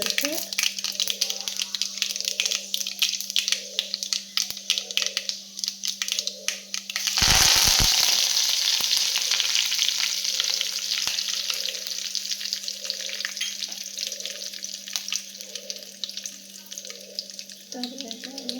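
Mustard seeds and urad dal temper in hot oil, a sudden loud hiss that swells midway then settles into a steady sizzle, with a person talking over it throughout.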